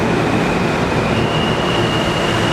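A New York City subway train roars loudly and steadily at close range, with a constant rumble and a faint high whine running through it, no voices heard.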